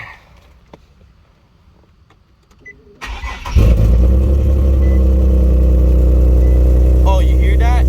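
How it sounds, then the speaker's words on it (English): A Nissan 370Z fitted with Z1 Motorsports intakes cranks and fires up, a quiet garage suddenly filled by a loud close engine settling into a steady idle. "Alright, we're gonna turn the car on."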